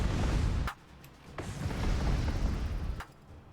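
Battleships fire at long range in the space strategy game Master of Orion, loud booming blasts and bursts, the first heavy barrage cutting off sharply, then a few more thuds and a rumbling volley.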